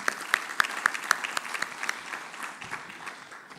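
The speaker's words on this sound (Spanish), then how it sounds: "Entonces un aplauso por favor por esta decisión, gobierno." A modest audience applauds at a biofuels conference, several crisp, prominent claps standing out over a softer, thinning patter of clapping that fades within a few seconds.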